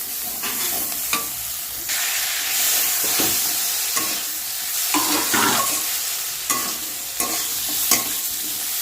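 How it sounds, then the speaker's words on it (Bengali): Potatoes stirred into spices and coriander frying in a pan, a steady close sizzle broken by repeated scraping strokes of a spoon against the pan. "এটা একটু নাড়াচাড়া করে এর মধ্যে দিয়ে দেবে আলু"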